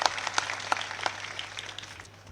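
A crowd at a Thakor community political rally in Banaskantha, Gujarat, claps in a burst of brisk, uneven applause that is loud at first and then thins and fades over a couple of seconds.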